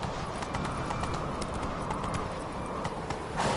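Hooves of Roach, a horse in The Witcher III: Blood and Wine, clatter in a steady gallop, continuous and close, with no talk over them.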